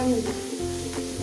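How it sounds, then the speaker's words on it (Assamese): Five eggs and tomatoes fry together in a pan, a dense continuous sizzle close up with a faint steady hum beneath and a couple of soft stirring swishes. "এনেকৈ ভাজি ল'ব"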